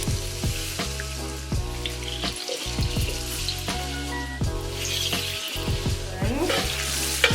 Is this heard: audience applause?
no